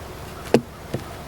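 Honey bees at a beehive give two short, close buzzing bursts over a steady faint background hum.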